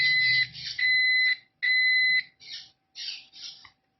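Electrical circuit tester sounding as its red and green leads are touched: a series of clear, steady electronic beep tones, some long and some short, loud and close with brief gaps between them.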